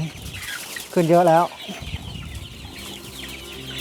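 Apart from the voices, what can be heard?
chickens clucking in a coop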